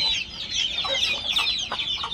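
Chickens clucking and calling busily at the coop, a hen among them with chicks, several overlapping voices close by.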